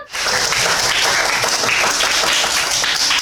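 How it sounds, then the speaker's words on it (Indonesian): Hand clapping fills a classroom, dense and continuous from many people, loud and close for a few seconds. "Oke, gue tepuk tangan"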